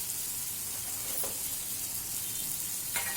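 Coarsely crushed chillies sizzle steadily in a pan over a medium flame while cooking bottle gourd (sorakaya) for a thokku pachadi, a continuous close frying hiss with a couple of brief bright crackles.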